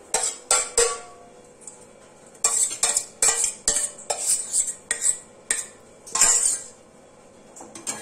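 Turmeric paste mixed with water being stirred in a pot for a papaya and moong dal dish, a spoon scraping and clinking against the metal in repeated short bursts, close and fairly loud with quiet gaps between.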